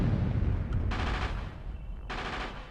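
Two distinct bursts of automatic gunfire from mounted guns in Castlevania: Legacy of Darkness, each lasting about half a second and separated by a pause, over a steady low rumble.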